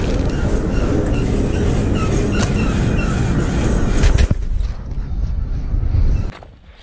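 A freight train rolls along the tracks heard from very close aboard, with loud continuous rumbling, rattling clatter and sharp metallic squeals and clanks, the roar then dropping away abruptly.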